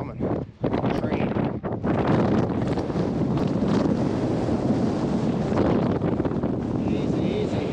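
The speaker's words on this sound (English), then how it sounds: "A strong wind." Strong wind gusting up a mountain valley beside a lake, roaring loudly and steadily with buffeting against the microphone and a brief lull near the start.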